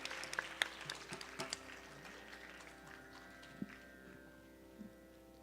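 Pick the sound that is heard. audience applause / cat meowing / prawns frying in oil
audience applause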